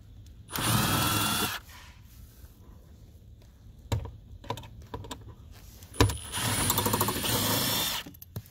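A power driver backs a T25 Torx screw out of a Mercedes W216 CL interior panel in two short, loud buzzing bursts, with scattered clicks and handling clatter between them.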